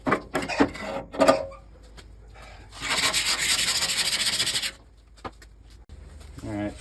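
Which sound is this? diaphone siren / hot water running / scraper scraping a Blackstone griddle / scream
scraper scraping a Blackstone griddle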